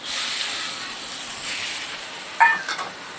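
Bean sprouts and ginger stir-fried in a pan give a soft, steady sizzle and hiss, with a couple of brief clatters of the utensil against the pan near the end.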